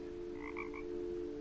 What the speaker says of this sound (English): A frog noise just came out of my controller.